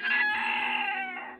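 A chicken gives one sustained, drawn-out call, close and fairly loud, rising slightly then tapering off at the end, with no other voices present.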